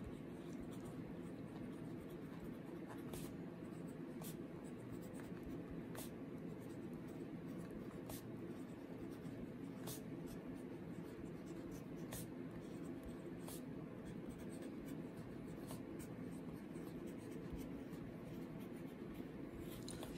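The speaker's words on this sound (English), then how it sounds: "I'll write this down." Pen strokes scratch across paper as a chi-square exam question is written out, a quiet continuous scribbling with short sharp ticks spaced every second or so, alone and close.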